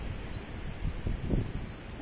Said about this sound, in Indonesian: Anginnya kencang.